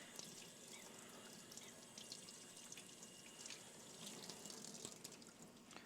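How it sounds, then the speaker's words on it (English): Sandcarved acrylic is rinsed under a running tap. Water hisses and splashes steadily with small irregular spatters, faint and continuous. "So we're just rinsing this really well."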